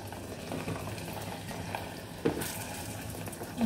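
Butter dropped into hot salted-butter caramel sizzles and fries steadily while being stirred in a pot, with a sharper burst of crackling partway through; no talking.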